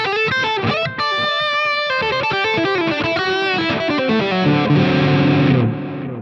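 Overdriven electric guitar through a Line 6 Helix Vitriol amp model plays a melodic line, each note followed by soft repeating delay echoes that build into a dense, sustained tail before fading.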